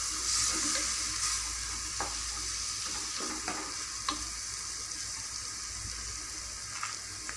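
Tomatoes added to a pan for egg biryani sizzle and fry steadily while a spoon stirs and scrapes through them, close and continuous with no talking.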